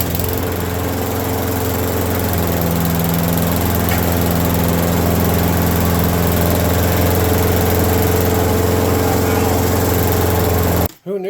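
Craftsman lawn mower engine running steadily and loudly during governor adjustment, a constant close drone throughout that cuts off abruptly at the very end.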